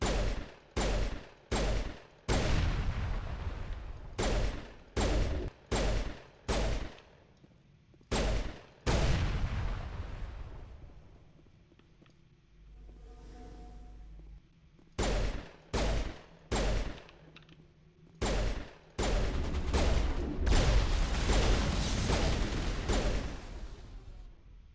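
Pistol gunfire in Mass Effect 1: loud, close single shots fired in quick clusters of three or four, each with a booming low tail, separated by short pauses and one longer lull of quiet humming.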